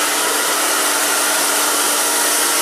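A hair dryer blow-dries hair, running as a loud, steady, close airflow roar without a break.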